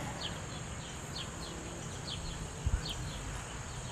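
Honey bees drone around a heavy brood frame held out of the hive, a soft, steady buzzing hum close by, with a couple of faint higher chirps and a brief low knock near the end.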